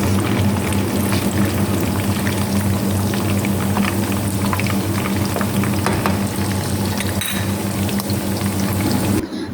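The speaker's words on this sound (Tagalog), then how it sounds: "malapit na natin matapos iprito yung mga manok" Chicken pieces frying in hot oil for chicken biryani, a steady close bubbling sizzle with crackling pops that runs continuously and loudly without a pause.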